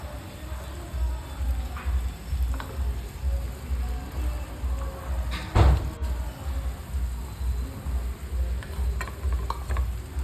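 Ginger garlic paste and finely chopped tomato frying in oil in a pan for a soya chunk vegetable biryani, a close, steady sizzle with stirring scrapes and one louder spatula clatter midway.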